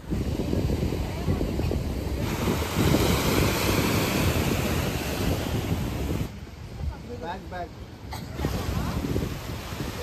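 Sea surf rolling onto a rocky beach in Vizag, a steady broad wash of breaking waves with wind buffeting the microphone, easing briefly toward the end.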